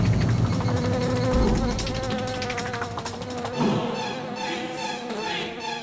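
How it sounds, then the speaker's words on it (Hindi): A housefly buzzes steadily and close up, its drone wavering in pitch throughout, set against a dense, busy background with no clear talk. "कोई मक्खी देखी तो डर गया?"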